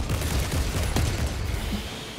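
Heavy gunfire in Warhammer 40K: Space Marine 2, a dense continuous barrage of rapid shots with a low rumbling boom underneath, loud and sustained.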